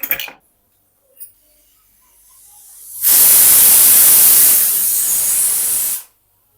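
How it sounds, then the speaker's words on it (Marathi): A pressure cooker releasing steam while cooking potatoes and sweet potatoes: after a few brief knocks and a rising hiss, a loud, forceful rush of steam sprays out for about three seconds, then cuts off abruptly. "तर आता तीन शिट्या आपल्या झालेल्या आहेत कुकरला"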